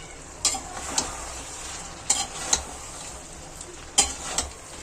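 Fried okra and onions being stirred in a pan, a soft sizzle underneath with several sharp scraping clinks of a spoon against the metal at irregular intervals.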